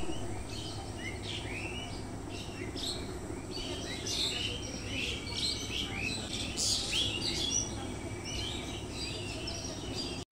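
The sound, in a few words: birds chirping outside in the morning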